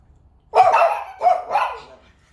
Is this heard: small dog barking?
yes